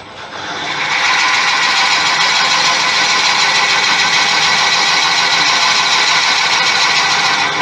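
A drill bores a hole into a Thai redwood vase on a woodturning setup, giving a loud, steady whirring grind that runs on without a break after a quick rise.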